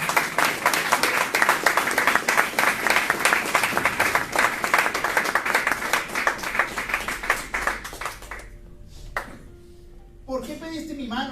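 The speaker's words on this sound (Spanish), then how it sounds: "Denle un aplauso al Señor por esa fortaleza." A church congregation applauds with loud, dense clapping that stops abruptly near the end, after which a voice speaks briefly.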